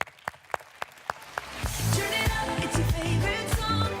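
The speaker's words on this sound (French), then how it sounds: "On peut l'applaudir très fort, s'il vous plaît." At a company congress, a few isolated claps at first, then the audience swells into fuller applause for the director general while rhythmic music with a booming beat rises underneath.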